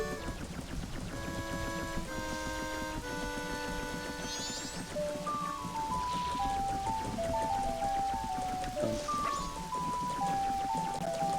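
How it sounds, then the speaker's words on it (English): Steady rain falls in the video game The Legend of Zelda: Majora's Mask, a constant hiss under clear melodic game music notes throughout. "The rain is so soothing."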